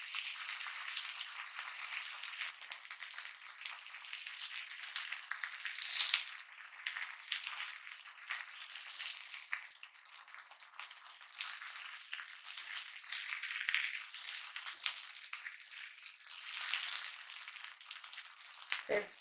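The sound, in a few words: rawa semolina uttapam sizzling in ghee on the pan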